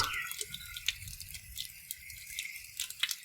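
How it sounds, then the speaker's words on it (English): Fresh amla being washed in water: light splashing and intermittent drips and trickles, close by and moderately quiet, with no voices. "Wash them well to get rid of any dirt."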